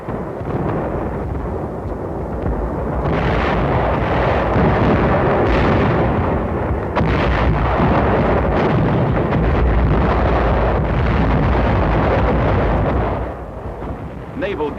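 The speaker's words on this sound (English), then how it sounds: "Naval guns supplemented the artillery barrage." Artillery barrage on a Japanese settlement during World War II, backed by naval guns: continuous heavy rumbling booms and blasts, loud and sustained for the whole stretch, with no voices.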